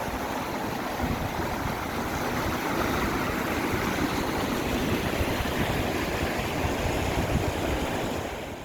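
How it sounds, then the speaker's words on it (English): The Sandy River rushes across a trail crossing on the Pacific Crest Trail, a continuous full roar of flowing water, close and loud, with no voices. "Here's a great river crossing."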